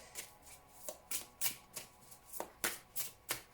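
Radiant Wild Tarot cards are shuffled by hand in quick rhythmic riffles, about a dozen soft papery bursts close by in a quiet room, with no talking.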